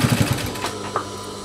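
Sewing machine stitching the waistband of denim jeans being enlarged, a short burst of rapid mechanical pulses at the start that fades into quieter whirring, close and fairly loud.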